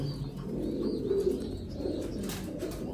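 Pigeons coo continuously in a loft, soft throaty murmurs overlapping into a steady near chorus with occasional faint chirps and no talk.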